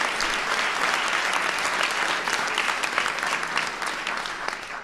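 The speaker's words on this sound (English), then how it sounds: "Give Jacob a round of applause" Applause for a student named Jacob at a 2016 Obama speech, a dense, even clapping from a large crowd that stays loud throughout before easing slightly at the end.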